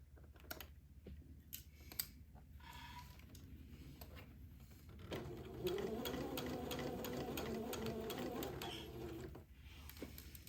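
Domestic sewing machine stitching a baby daygown, faint clicks and handling noises at first, then a steady whirring run of stitching for several seconds before stopping, quiet and close.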